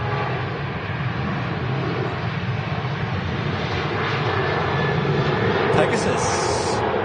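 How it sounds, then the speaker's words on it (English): Pegasus Boeing 737-800 jet departing Manchester Airport toward Istanbul, a continuous loud broadband engine roar that holds steady throughout, heard from a distance with no talking. "Pegasus, flight 1180, heading off to Istanbul. Ooh, I love that 737-800 series aircraft."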